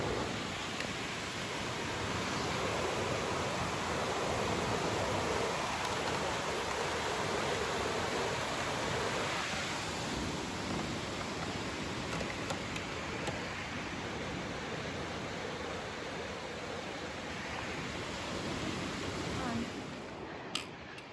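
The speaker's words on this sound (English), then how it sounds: "Crossing over the McCloud River." The silty McCloud River rushes past during a trail crossing on the Pacific Crest Trail, a broad, steady roar of flowing water with occasional footstep rustles and brief talking.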